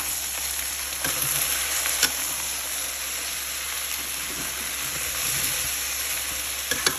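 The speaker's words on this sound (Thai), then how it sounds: "ราดครีมซอสขาวลงไปนะคะ มาคลุกเคล้าค่ะ" White cream sauce is tossed with spaghetti carbonara in a hot pan, a steady close sizzle with soft scraping and stirring clicks running throughout.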